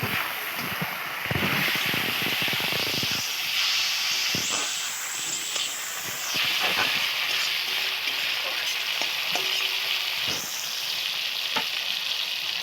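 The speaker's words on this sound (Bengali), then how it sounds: "দিয়ে টমেটো কুচি একটু ভেজে নেবো পেঁয়াজের সাথে" Chopped tomato frying with onions in a pan gives a loud, steady sizzle and hiss, with stirring scrapes breaking through now and then, close up and without speech.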